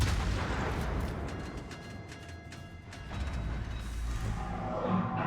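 Naval guns fire in a World of Warships battle, heavy rumbling booms and mechanical clatter rolling together at a steady, fairly loud level with no break.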